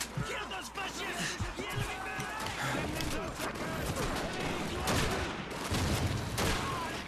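Rifle and gunfire crack repeatedly in a Call of Duty 2 firefight, sharp shots scattered through the clip amid battle noise, with a voice talking over the action.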